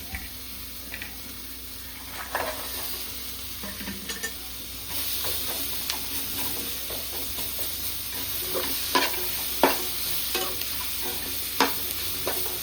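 Paneer stir-fries in a pan for paneer fried rice, a soft steady sizzle broken by frequent spatula scrapes and clinks, growing louder partway through as the pan heats up.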